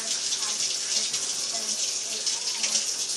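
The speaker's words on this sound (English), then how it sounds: "First thing we have to do whenever we cook is wash our hands. So let's wash our hands." Tap water runs steadily and loudly into a sink while hands are scrubbed and rinsed with soap, a continuous bright hiss with slight surges throughout.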